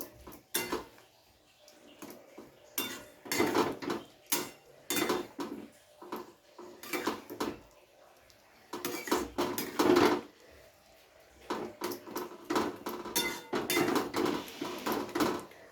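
Tomato chutney stirred in a pan, with bursts of utensil scraping and clinking against the metal coming in irregular clusters separated by short quiet pauses, close and fairly soft, with no talking.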